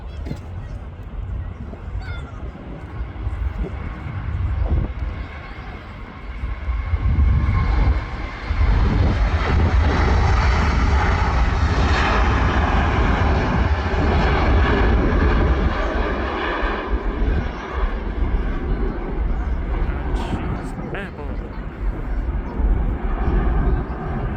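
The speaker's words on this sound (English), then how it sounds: "She is A350 Cathay Pacific to Hong Kong." A Cathay Pacific Airbus A350 bound for Hong Kong takes off at Manchester Airport, its engines roaring in a broad, steady rumble that swells to a loud peak and slowly eases, with voices talking over it.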